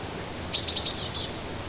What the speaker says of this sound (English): birds chirp.